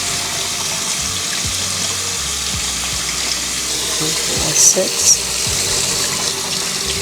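Kitchen tap water runs steadily into a sink as chicken is rinsed with vinegar and water, giving a continuous gushing splash with a few clatters and a voice counting over it.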